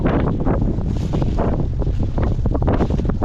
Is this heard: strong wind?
yes